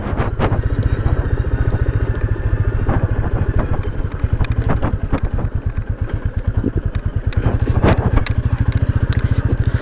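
A 2021 Royal Enfield Meteor 350 climbs a hilly off-road track at low rpm, its single-cylinder engine thumping in a loud, close, steady pulse with slight swells in throttle and no voices.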